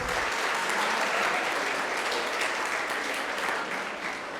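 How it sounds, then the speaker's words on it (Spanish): Dense, steady applause from a crowd at a literary festival author event, loud and sustained throughout with no break, fading only slightly at the end. "El primer aplauso es para ustedes, por supuesto"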